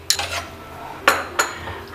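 A metal spoon clinks against a pot three times while cornflour is stirred into a vegetable stew, sharp and close, with a soft scraping between the taps.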